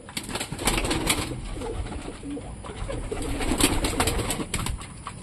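Pigeons coo softly and continuously inside a loft, a steady layered murmur of calls with occasional brighter notes. The sound stays close, with no speech.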